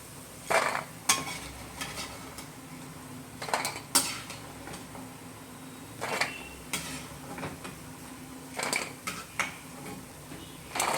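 Horse gram vathal being tempered in a pan, with metal utensils clinking and scraping against the pan in repeated bursts over a soft background sizzle, close and fairly loud, no talking.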